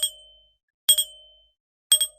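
A simple household doorbell chimes three times, bright and clear, each strike ringing out and decaying before the next, evenly spaced and alone.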